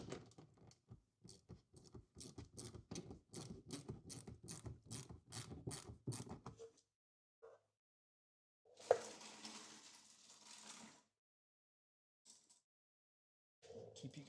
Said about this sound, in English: So we're going to start by removing these 3 bolts.